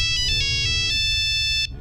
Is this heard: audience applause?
no